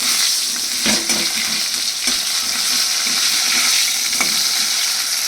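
Chopped ridge gourd dusted with turmeric sizzles steadily in hot oil while a spatula scrapes and turns it, with several distinct stirring scrapes over the continuous frying hiss.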